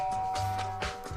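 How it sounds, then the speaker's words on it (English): A doorbell rings in Danganronpa: Trigger Happy Havoc, a short chime of clear, sustained tones heard alone over faint game background. "I press the doorbell,"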